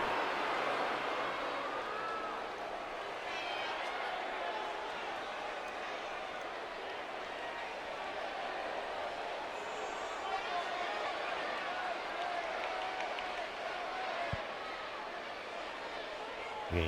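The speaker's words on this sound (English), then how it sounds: "listen to this crowd." Wrestling arena crowd in WWE 2K19 gives a continuous distant roar and murmur, with a commentator's voice over it.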